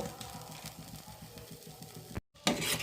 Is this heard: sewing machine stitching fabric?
no